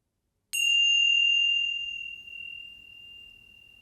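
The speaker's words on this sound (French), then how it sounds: "Puis pour revenir ensemble, on peut juste se faire sonner une petite cloche" A small ritual bell struck once, a clear bright ring that rises suddenly and sustains for several seconds while slowly fading, alone in an otherwise quiet room.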